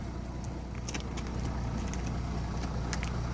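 A Mercedes E350 CDI diesel engine idles steadily with a low, rough rumble, close by, with a few faint metallic clinks over it.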